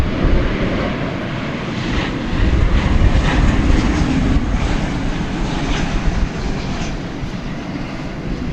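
An airplane at DFW Airport at night in windy conditions, a loud, continuous, low jet-engine rumble that swells slightly partway through and holds steady.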